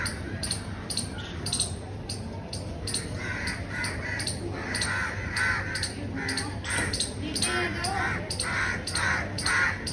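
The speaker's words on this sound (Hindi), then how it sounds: "ये इन कौओं ने ऐसा कर दिया है कि जैसे मैं ही इसको मारने के लिए आया हूँ, चारों तरफ से इतने घूम रहे हैं" Crows circle overhead, cawing repeatedly from several directions at once in a harsh, continuous chorus, with faint talk underneath.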